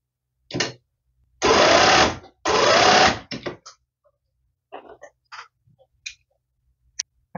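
A sewing machine stitches a fabric seam on a safari-print hooded towel, two long steady runs of loud whirring followed by short bursts and scattered clicks and taps, with no voices.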